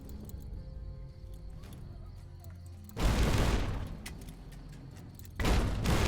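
Two grenades explode in Fallout: New Vegas, loud booming blasts about two and a half seconds apart, each followed by a rumbling decay, over quieter background game sounds.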